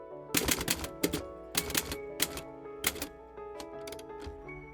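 An old manual typewriter clacks close by in irregular bursts of sharp keystrokes, quick runs of strikes separated by short pauses, ending in quieter ticking.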